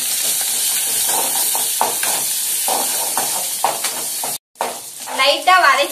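Ginger and garlic frying in a pan for chicken kola urundai, with steady close sizzling and stirring scrapes, a brief gap, then louder crackling sizzle toward the end.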